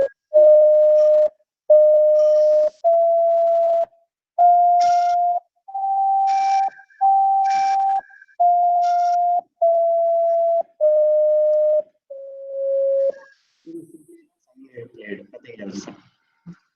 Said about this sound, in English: this is a simple sine wave played.